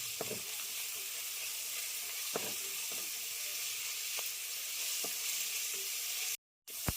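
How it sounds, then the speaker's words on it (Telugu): Ginger-garlic paste with curry leaves sizzles steadily in a pan, a constant frying hiss broken by several soft spatula stirs and scrapes, with a brief silent gap near the end. "ఈ అల్లం వెల్లిగడ్డ పేస్ట్ కూడా ఏగేదాకా ఏగనిద్దాం."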